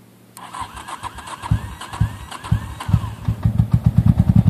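A 1985 Honda Shadow VT700C motorcycle engine cranks with a choke applied, then catches and lurches to life, settling into a loud, close, rapidly pulsing idle with uneven firing beats.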